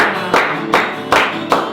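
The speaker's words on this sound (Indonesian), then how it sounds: "Tepuk tangannya bersama-sama." A group claps hands together in unison at a Sunday school worship service, four sharp, evenly spaced claps ringing in a reverberant room.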